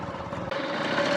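Modified motorcycle built by merging KTM, Yamaha and TVS parts, its engine idling steadily close by with a constant droning hum and a brief dip in the middle.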